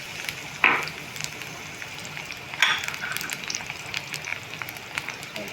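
Onions dropped into hot oil for butter paneer, giving a soft, steady sizzle with two brief louder crackling bursts as they hit the pan, quiet and close with no talk.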